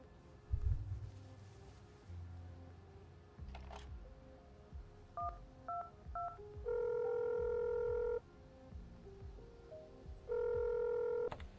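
A mobile phone being dialed in a video game, a series of short keypad beeps followed by two longer steady dial tones, faint over a low engine-like background hum.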